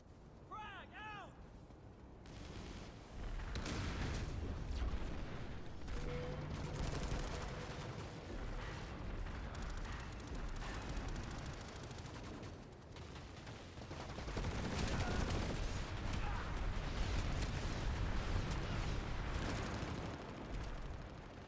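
Video game combat with a grenade blast and sustained gunfire, dense rattling shots and booming impacts rolling on continuously under a game voice callout.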